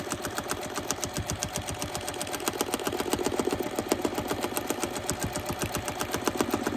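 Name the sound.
domestic sewing machine free motion quilting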